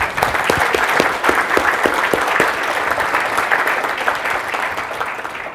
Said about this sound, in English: a brief round of applause